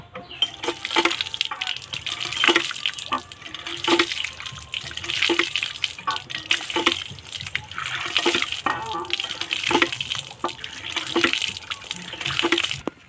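A kitchen knife is rinsed under a running tap, a steady splashing stream with small clinks and knocks throughout, and a bit of quiet talk.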